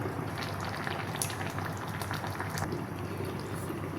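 Siakap fish curry simmering gently in a pot on a low flame, a steady soft bubbling and popping that runs evenly throughout, close and moderately quiet.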